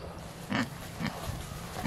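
A pig grunts and oinks in short bursts, three or four quick grunts spaced about half a second apart, close by and moderately loud over a quiet background.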